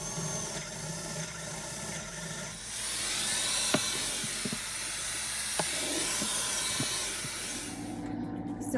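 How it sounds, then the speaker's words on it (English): A power drill boring peg holes into a craft cabinet, a sustained high whirring hiss that swells as the bit bites in and cuts off near the end, close and fairly loud, with faint knocks under it and no talk. "So I'm going to drill all of these little holes in"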